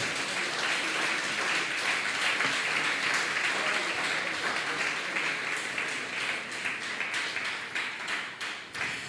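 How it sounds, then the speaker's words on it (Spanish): Sustained crowd applause and clapping from a church congregation during a Spanish-language sermon, dense and steady for several seconds at a moderate level with no talking over it. "Démosle un fuerte aplauso a Jesucristo."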